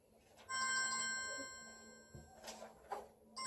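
A phone ringtone plays as a steady electronic melody of sustained tones, moderately loud and close, with some background rustling and faint movement noises toward the end.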